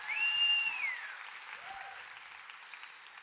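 Faint, distant applause from an event audience at a speaker session, with a whistle-like tone sweeping over the start before the clapping settles into a soft, steady patter.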